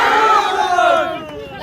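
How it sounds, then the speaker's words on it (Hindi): A crowd at a political election rally in Ghosi, Bihar shouts slogans together, a loud massed roar of voices rising and falling briefly before fading. "अभी तो नारे लगवा रहे हैं"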